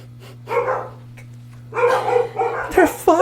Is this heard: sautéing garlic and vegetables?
no